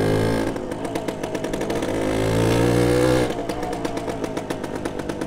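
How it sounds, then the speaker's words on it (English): A Suzuki RV125 two-stroke motorcycle rides past nearby with a buzzing, rasping engine note, rising in pitch before easing off and then pulsing again. "But it does sound nice being a two-stroke."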